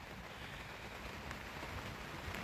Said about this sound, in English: there is no better sound than rain